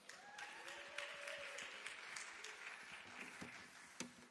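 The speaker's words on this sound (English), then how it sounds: "Please give a round of applause to them." An audience at a Sikh storytelling event in Chicago gives a steady round of applause that fills the whole stretch at an even level, with a few sharper claps standing out near the end.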